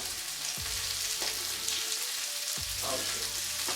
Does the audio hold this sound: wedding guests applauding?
no